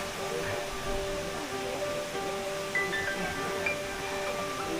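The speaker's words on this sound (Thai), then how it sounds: "ถ้าเราเดินอยู่ภายในวัดเนี่ยก็จะมีเสียงน้ำตก ได้ยินเสียงน้ำตกเลยนะครับ" A waterfall at Wat Pha Lat temple in Chiang Mai sends up a steady, even rush of water that fills the whole stretch, with a faint tonal hum running underneath.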